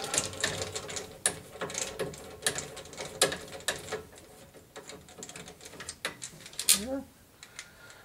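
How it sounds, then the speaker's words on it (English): Screws come out of an arcade game monitor on a Simpsons arcade cabinet, giving repeated close ratcheting clicks and sharp metallic taps in irregular bursts, with brief speech mixed in. "go through and remove the two screws"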